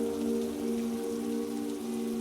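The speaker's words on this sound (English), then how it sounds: "Thunder rumbled in the air as the rain fell heavier." Steady rain falls in a continuous hiss, with a low constant hum running underneath throughout.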